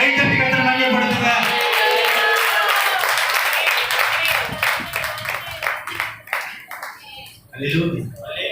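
A church congregation at a Sunday Assembly service claps hands: a loud voice carries at first, then dense, rhythmic clapping comes to the fore, mixed with voices.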